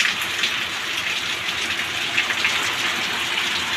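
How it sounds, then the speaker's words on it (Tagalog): Heavy rain pouring outside heard from indoors, a dense continuous hiss of falling water that stays loud and steady with no voices. "lakas ng ulan ngayon sa labas"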